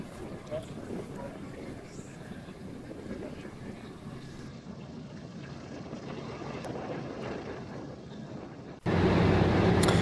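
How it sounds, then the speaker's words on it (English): Piston engines of a B-17G bomber warm up on the ground, a steady loud droning roar heard from inside the aircraft that holds for most of the clip, then swells sharply louder near the end. "right now they're just warming up the engines, and it takes a while"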